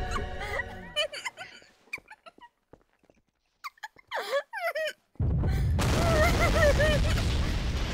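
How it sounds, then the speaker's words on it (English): A delayed explosion in Garry's Mod Trouble in Terrorist Town: after scattered short game sounds and pauses, a loud broadband blast erupts and keeps roaring steadily to the end, with higher chirping sounds over it. "There's that delay explosion, by the way."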